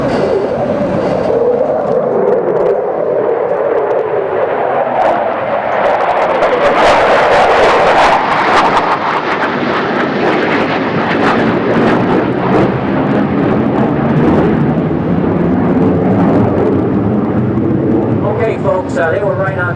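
Fighter jets of the 180th Fighter Wing from Toledo flying over the opening ceremony of the 2011 Jet World Masters in Dayton, Ohio: a loud roar that swells and sweeps across, then rumbles on under a voice speaking.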